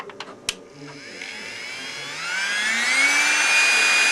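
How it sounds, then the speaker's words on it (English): A Hornby, Triang or Dapol model railway track-cleaning Hoover wagon starts up after a few clicks, its small vacuum motor whining and rising in pitch into a steady, loud high drone. "Now you'll hear the Hoover."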